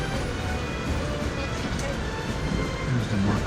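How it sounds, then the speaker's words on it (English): A MARC commuter train on the Northeast Corridor rumbles past in a steady, broad roar of wheels and rail noise that holds for a few seconds, with faint voices underneath. "Yeah, plenty of MARC trains."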